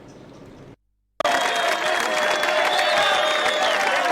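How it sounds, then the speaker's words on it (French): Exam finalists at a school cheer and clap to welcome a provincial governor, a loud sustained burst of crowd noise with whistling tones, cut in abruptly after a brief silence following a short fainter stretch. "C'est sous ces acclamations que les finalistes ont accueilli le gouverneur de province Jacques Kaboula Katoué"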